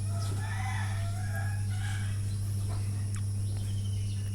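Native desi chickens about two months old cluck and call faintly at a distance on a farm over a constant loud electrical hum.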